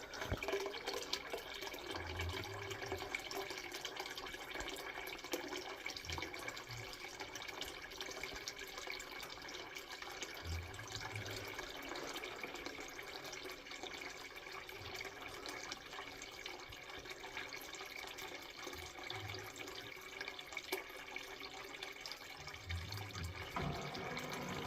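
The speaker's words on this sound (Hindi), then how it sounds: "और ये हमारी मोटर हो गई स्टार्ट, वापस से पानी भरना शुरू" Water from a motor-driven pump pours steadily into a tank, a continuous faint rushing and splashing with a low intermittent rumble beneath, with no talk.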